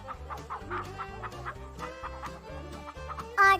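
Cartoon chickens cluck in a steady, rhythmic run at close range over a soft backing, closing with a short, loud rooster crow near the end, with no talk.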